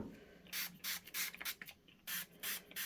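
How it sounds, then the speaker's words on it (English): A four-ounce bottle of stain remover sprays onto a chocolate ice pop stain on fabric, giving about seven short bright hissing spritzes in quick succession, close and fairly quiet, with no voices. "and we're gonna spray"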